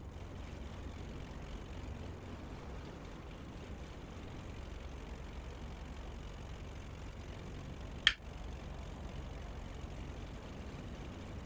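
Beechcraft aircraft engine idling at departure in Microsoft Flight Simulator 2024, a quiet, steady propeller drone running throughout, broken once by a single sharp click.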